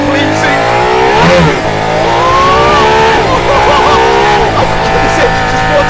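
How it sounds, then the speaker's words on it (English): Aston Martin's road-legal F1-style car screams as its engine revs hard from the driver's seat, loud and close, with repeated rising and falling pitch sweeps as the revs climb and drop. "This engine just wants to rev."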